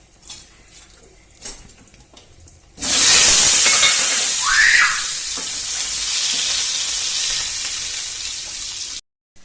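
Cumin seeds and turmeric dropped into a spoonful of hot oil in a frying pan, cooking for a Gujarati potato dish, burst into a loud, steady sizzle and hiss after a quiet start, holding for several seconds before cutting off abruptly.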